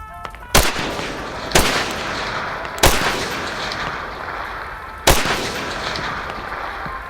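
Four heavy gunshots ring out one at a time in Tactical Assault VR, loud and close with echoing tails between irregular gaps, in a cooperative two-player shooter mission.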